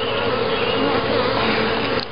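Bees buzzing steadily and close during an inspection of a swarm hive, a dense continuous hum that stays loud throughout with a slight dip at the very end.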